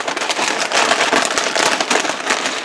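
A potato chip bag crinkles and rustles as it is opened beside a griddle, making a dense, crackly burst of close, fairly loud crackling with no speech.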